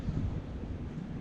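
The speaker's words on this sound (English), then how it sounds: "Nice and windy spot here." Wind buffets a beach campsite in remote bush country, a steady low rumble of gusts on the microphone with a hint of surf behind it, continuous and fairly loud through the short stretch.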